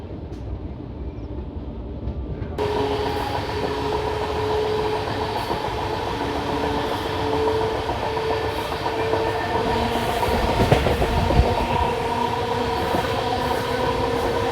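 Shri Ganganagar–Delhi Intercity Express (12482) running between Sampla and Bahadurgarh stations in Haryana, a steady loud rumble of wheels on rails with rhythmic clatter and a brief squeal, continuous throughout with no talk.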